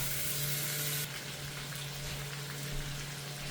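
A kitchen tap runs steadily for hand washing, a constant close hiss of flowing water with a low hum underneath and a slight drop in level after the first second.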